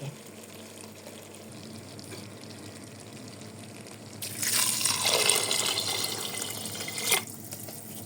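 Water pours steadily into a multicooker bowl holding pearl barley for a few seconds, a bright rushing splash that rises midway and ends with a brief clunk.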